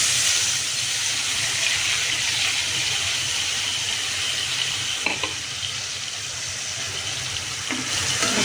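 Cumin seeds tempering in hot oil give a steady, loud sizzle and hiss throughout, with a couple of faint clinks of a utensil partway through.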